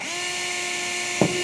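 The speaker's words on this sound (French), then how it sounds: "Hop, par exemple, je perce là." A power drill whines steadily, close by, while boring a hole in concrete formwork. A sharp knock comes near the end of the short burst.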